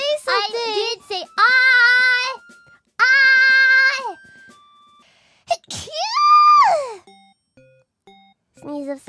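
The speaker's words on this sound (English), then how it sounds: "That's your first double sneeze" Two quick, close sneezes land in succession amid high-pitched, animated voices, gasps and exclamations.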